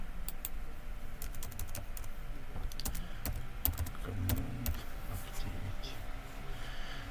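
Computer keyboard keys click in scattered, uneven runs close by, with someone talking over the typing throughout.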